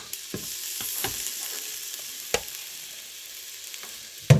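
Beef sizzles faintly as it browns in a Crockpot Express pot, with soft stirring scrapes and a few sharper clicks of a utensil against the pot, close by and with no talking.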